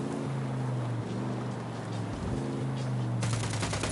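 Gunfire in the video game Ghost Recon Wildlands, a dense, fast rattle of automatic shots that swells near the end over a steady low engine drone, with a voice speaking briefly.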